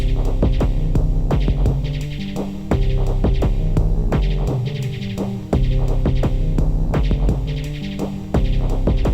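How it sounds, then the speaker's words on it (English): Kick drum loop slowed to half tempo in Ableton Live: deep, booming thumps repeat at a slow, steady pulse under a droning, humming tonal bed, loud and without any voices. "Put it like half tempo there for my kick drum, which actually doesn't sound too bad."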